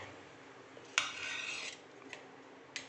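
Freshly cooked onion thalipeeth lifted off a hot pan onto a plate, with a short scraping rasp of a spatula against metal followed by a couple of light clinks, quiet and close.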